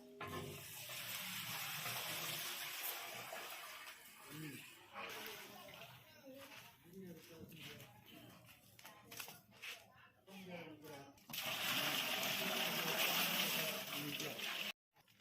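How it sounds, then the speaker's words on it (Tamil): Water gushes steadily into a large cooking pot of rice for ghee rice, a feast for 150 people, pouring in long splashing stretches while a person talks. "இந்த அரிசிக்கு எந்த அளவுக்கு தண்ணி வேணுமோ அந்த அளவுக்கு நம்ம தண்ணி வந்து இப்போ ஊற்றிக்கிடலாம்."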